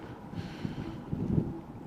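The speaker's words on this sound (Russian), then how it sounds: "Но ветер вот с такими порывами" Gusty wind buffets the microphone at a spring fishing spot, a low rumbling rush that swells and eases in uneven gusts, loud and close, with no other clear sounds.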